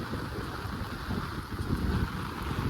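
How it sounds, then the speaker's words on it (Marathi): Heavy rain pours down on a wet night outing for catching crabs in the first rain of the season, a dense, steady roar of broadband hiss with no voices. "आता बघा किती पाऊस पडतोय पाऊस पडतो आता"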